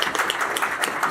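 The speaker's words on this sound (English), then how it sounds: "Quick round of applause for everything she's done." Audience at a UK BIM Alliance event in Wales applauds the organiser, a short burst of scattered clapping heard close and fairly soft.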